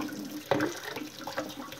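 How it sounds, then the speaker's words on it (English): Hot water runs from a household sink faucet after a hot water heater tank replacement, a close, steady gushing splash with sputtering bursts as trapped air clears from the line. "you want to open up your hot water on your sink and let all the air out and let it run"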